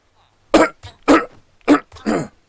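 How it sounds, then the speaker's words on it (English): Four separate coughs, close and fairly loud, with short pauses between them and no talking. "pardon my coughing"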